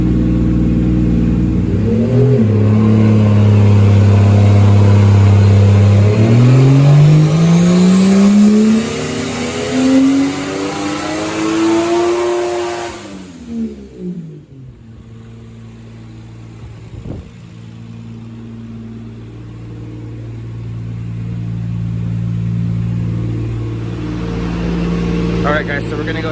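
Turbocharged Toyota Supra with a 2JZ engine pulling on a dyno at 16 psi boost on 91 octane, loud, rising revs sweeping steadily upward before cutting off abruptly, then settling to a lower idle with brief pops.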